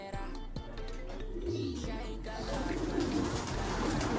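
Black and white pigeons coo softly in low, murmuring calls over faint background noise, with a few scattered rustles and no voices.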